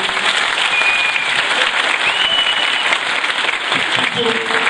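Theatre audience at a play staging in Kırşehir giving a strong round of applause, a loud, even and sustained clatter of many hands with faint voices mixed in.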